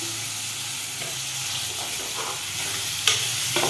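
Onion and tomatoes fry in a pan for a vegetable biryani, giving a close, continuous sizzle with intermittent scraping and stirring strokes and a sharp clink near the end. No one speaks.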